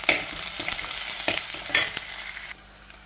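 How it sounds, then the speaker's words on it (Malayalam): Onion, green chillies, curry leaves and a small piece of ginger sauté in a pan for egg curry, with steady close sizzling and several scraping stirs, then dropping quieter near the end. "അതിലേക്ക് 2 പച്ചമുളക്, തണ്ട് കറിവേപ്പില, പിന്നെ ഒരു ചെറിയ കഷ്ണം ഇഞ്ചി ഇതിലിട്ട് ഒന്ന് വഴറ്റിയെടുക്കാം"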